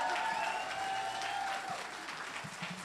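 A crowd at an anime convention cosplay competition applauds in a dense, sustained wash of clapping, with a faint tone and low rumble underneath and a few scattered voices.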